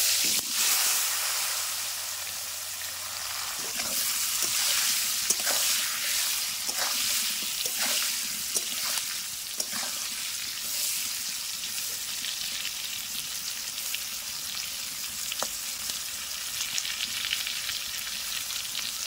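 Raw jackfruit pieces fry in oil with salt and turmeric, giving a strong continuous sizzle with crackling pops and occasional stirring clicks, close and steady with no voices.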